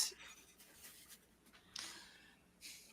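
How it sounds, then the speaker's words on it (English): A napkin rustling against a microphone, faint soft scratchy brushes in several short bursts, alone with no talk. "you're messing around with a napkin, huh?"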